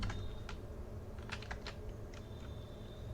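Sparse keyboard typing on a computer while writing HTML, a handful of faint key clicks spread over a steady background hum.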